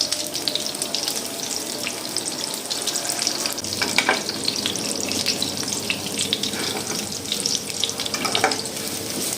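Chicken gola kabab pieces sizzle and fry steadily in a pan, with soft scraping and clinks as they are stirred and turned over, close and continuous with no talking.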